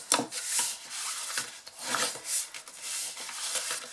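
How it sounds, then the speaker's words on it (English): A folded card box gets its score lines burnished in soft, close rubbing strokes, a series of quiet swishing passes in an uneven rhythm. "fold and burnish all of those score lines"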